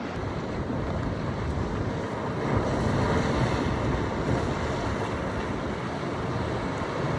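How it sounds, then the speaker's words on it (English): Wind buffets an iPhone 16 Pro Max internal microphone with a constant loud rushing roar, broad and blustery, with no voices. "It's quite windy, so if I had the wind noise settings off, I think it would be much worse"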